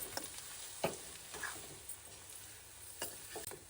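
Mutton frying in a pan with garam masala, a steady soft sizzle broken by a few scraping stirs of a spoon, close and quiet with no talking.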